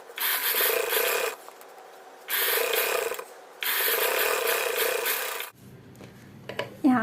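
A sewing machine stitches a blouse in three loud bursts of rapid mechanical chatter separated by short pauses, then ends with softer handling noises.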